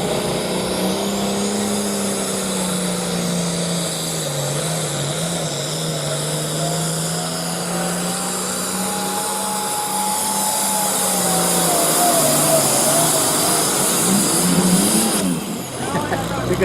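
A pulling tractor's engine roars at full power during a tractor pull, a loud sustained drone whose pitch wavers and climbs toward the end, while commentators talk over it.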